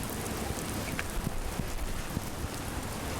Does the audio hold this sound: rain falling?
yes